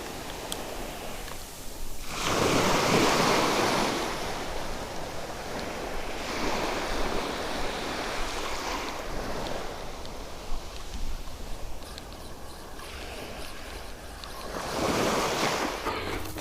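Waves rolling onto a long beach: broad surges of surf build and wash for a few seconds at a time, swelling strongly near the start and again near the end, with steady wind-blown hiss in between.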